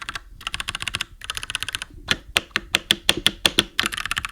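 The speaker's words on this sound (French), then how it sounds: "j'ai ce nouveau clavier mécanique sans fil, ça c'est une nouveauté" Clacky keystrokes on a wireless Royal Kludge mechanical gaming keyboard, first in fast bursts of continuous typing, then a run of separate, evenly spaced sharp presses, close and loud with no voices.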